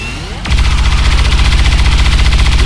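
Sustained automatic gunfire from XCOM 2 erupts after a brief lead-in, a loud, rapid stream of repeated shots holding steady for over two seconds with no talk over it.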